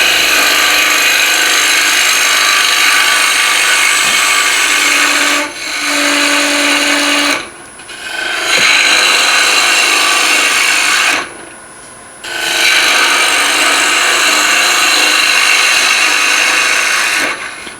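A lathe gouge cuts a wooden side-grain bowl from rim to base: a loud, steady, close hiss and rasp of shaving wood, broken by two short pauses before the cutting resumes.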